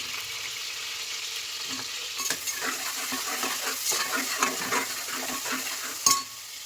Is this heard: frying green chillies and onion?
yes